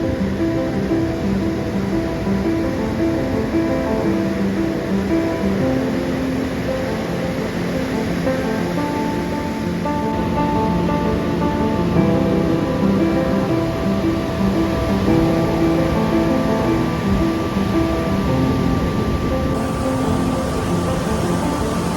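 Ocean surf churning in a riptide at a surf beach in El Salvador, a steady loud wash of broadband water noise filling the whole stretch with no pauses, heard up close as if from within the water.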